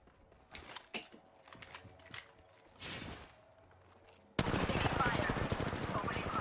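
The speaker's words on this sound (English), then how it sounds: "Opening fire." Video game gunfire, a dense continuous burst of automatic fire that begins abruptly near the end and stays loud, after a few quieter scattered shots and game effects.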